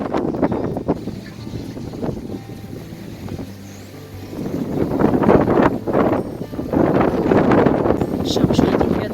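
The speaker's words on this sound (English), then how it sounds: "I'm sure you can hear the wind." Strong gusting wind outdoors near a balcony as a storm approaches, roaring steadily through the whole stretch with heavier blasts building in the second half.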